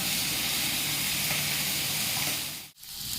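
Fish frying in a pan gives a steady, close sizzle with hiss throughout, broken by a brief dip near the end.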